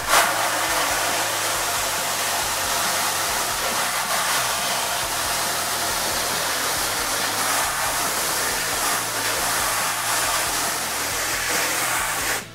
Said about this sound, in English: I'm going to take a low pressure hose and start washing the screen out from top to bottom